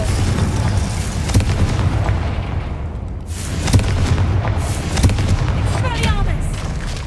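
Heavy rumbling booms from a Confringo blasting spell in the video game Hogwarts Legacy, a dense continuous roar of explosions with sharp bursts around the middle and near the end, loud and close.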